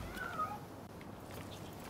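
A cat meows in the video game Rise of the Ronin: a single high, wavering meow near the start, fairly faint over low background game ambience.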